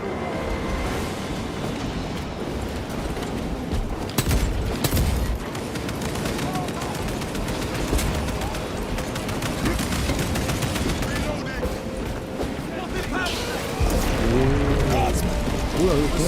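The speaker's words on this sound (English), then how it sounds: "Small arms fire. It sounds close." Small arms gunfire rattles steadily through a Space Marine 2 battle as continuous rapid bursts under combat din, sounding close and sustained throughout.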